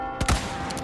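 A couple of sharp, booming gunshots ring out in Resident Evil 4 Remake, two close bursts in quick succession with a lingering game soundscape behind them.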